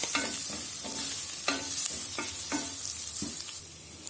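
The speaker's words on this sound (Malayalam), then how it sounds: "ഒരു 2 ടീസ്പൂൺ മല്ലിയുടെ പൊടി ഒക്കെ ചേർത്തിട്ട് നന്നായിട്ടൊന്ന് വഴറ്റി കൊടുക്കുക." Garam masala and coriander powder sizzle as they are stirred in a pan of vegetable kurma base, with steady frying hiss and rhythmic spoon scrapes every half second or so. No one speaks.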